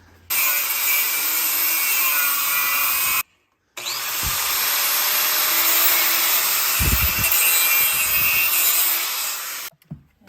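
A power tool cuts through a steel threaded rod on a winch, a loud steady high-pitched grinding whine running nearly the whole time, with one short pause and a few thumps of handling near the end.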